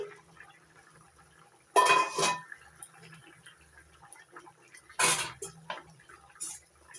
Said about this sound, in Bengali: এবার ঢাকনা তুলে নিচ্ছি